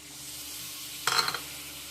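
Boiled pumpkin water poured into a pan of sizzling pumpkin kofta masala gives a sudden, loud hiss that lasts about a third of a second before settling back to a low background.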